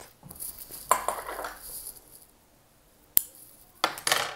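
Scissors snipping crochet yarn, with a couple of short, sharp metallic snips and clicks spaced apart in a quiet room, close and fairly soft.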